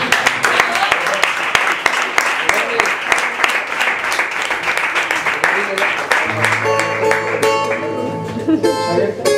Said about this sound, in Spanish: quiero que reciban con un fortísimo aplauso al señor Bonnie